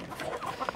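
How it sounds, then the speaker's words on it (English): Chickens clucking close by, a busy overlapping stream of short throaty calls with a few sharper squawks, no voices. "The chickens want to come out, but we can't let them out yet."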